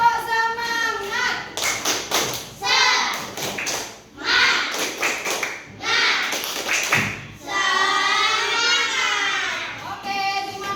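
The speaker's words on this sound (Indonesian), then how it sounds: "Tepuk semangat." A class of fourth-grade schoolchildren performs a rhythmic clapping chant, bursts of sharp, tightly grouped hand claps alternating with their chanted voices, led by a teacher, close and lively in the classroom.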